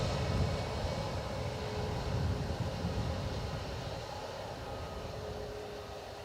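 An American Airlines Boeing 787 Dreamliner from Chicago rumbles at Dublin Airport, a broad, steady engine roar that holds and slowly fades over several seconds, with no voices.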